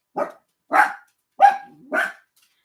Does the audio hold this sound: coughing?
no